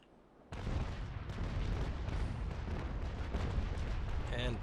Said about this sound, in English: So that's gonna be an important broadside here.